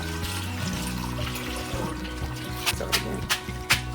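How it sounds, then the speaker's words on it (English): Cold tap water runs steadily over freshly cooked, drained pasta in a colander, a close splashing trickle with a few sharper clinks and splashes toward the end. "we're going to run a little cold water on it to stop it from cooking"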